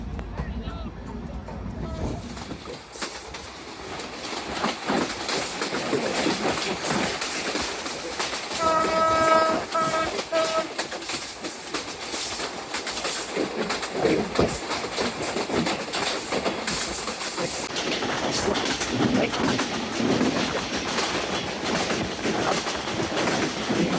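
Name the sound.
passenger train moving slowly onto main line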